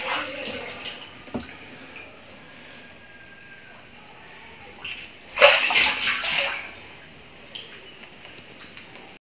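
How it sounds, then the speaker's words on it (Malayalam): A batch of about a hundred murrel (snakehead) fish fry is poured into a tank of water. A sudden, loud splashing pour comes midway and lasts about a second, surrounded by quieter handling noises and faint drips. "ഇതിനെ വെള്ളത്തിലേക്ക് ആക്കാം."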